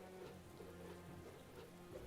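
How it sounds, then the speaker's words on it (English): Steady, soft rain from Metaphor ReFantazio patters continuously as a gentle background wash, with faint low in-game music tones running underneath and no voices. "Rain?"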